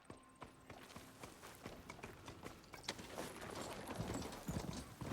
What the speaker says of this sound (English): Probably call my horse.